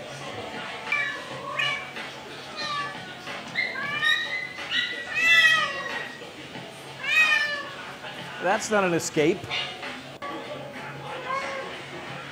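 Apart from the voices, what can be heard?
cat meowing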